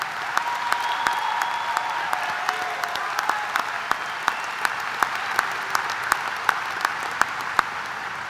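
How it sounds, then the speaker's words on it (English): A large graduation crowd at a high school ceremony claps steadily for the class of 2026, a sustained wash of applause with sharp scattered claps throughout. "Please join me in giving the class of 2026 a well-deserved round of applause for their achievements"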